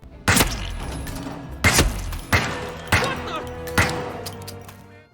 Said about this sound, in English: Is that really a duck noise?